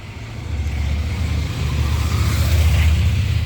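A motorcycle passes along a narrow street in the medieval Spanish village of Chinchón; a low engine drone swells gradually and holds near, with faint background noise and no speech.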